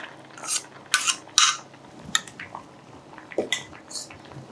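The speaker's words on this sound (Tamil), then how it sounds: "இப்போ இதோட பருப்பு சேர்த்துக்கிறேன்" Scraping and clinking of a utensil against a metal pot as lentils are tipped into cooking sambar and stirred, with a few soft wet squelches.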